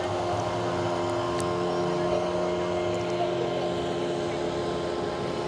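A motorboat travels along a river near a village, its engine droning steadily and moderately close, with a continuous hum and faint wind noise throughout.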